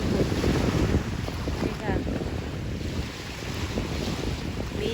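Powerful waves surging and crashing onto a shore, with heavy wind buffeting the microphone throughout.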